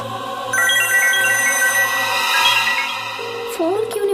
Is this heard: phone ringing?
yes